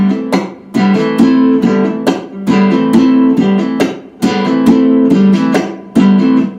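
A guitar played percussively, the fretting hand pressing down on the strings to sound sharp rhythmic hits, loud and close, repeating in a steady groove with ringing notes between the attacks and no talking.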